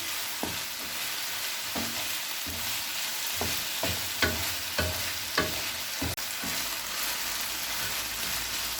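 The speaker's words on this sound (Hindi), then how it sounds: "तकरीबन ½ kg चिकन लिया है, इसे फ्राई करेंगे।" About half a kilo of chicken with salt fries in a pan for a macaroni dish, a steady broadband sizzle running throughout, broken by sharp spatula scrapes and clinks as the pieces are stirred every second or so.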